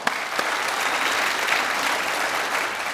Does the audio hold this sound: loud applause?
yes